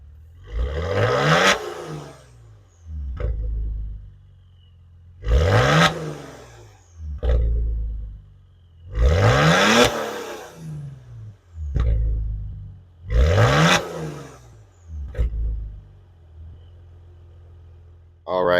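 A 2017 Maserati Levante S heard from behind at the exhaust, revving hard in four loud, separate bursts, each rising sharply and dropping back to a low idle rumble between them.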